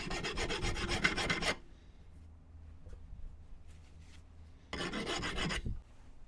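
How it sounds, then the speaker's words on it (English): A metal file deburring the edge of a vise ring: a close, loud burst of rapid rasping strokes, a quiet pause with faint handling noises, then another rasping burst. "now I've gone all the way around with the file."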